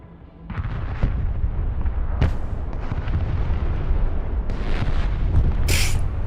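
Rockets from a multiple-launch battery in Broken Arrow fire in a continuous barrage, loud booms and whooshing bursts stacking over a rumbling roar for several seconds with no talk.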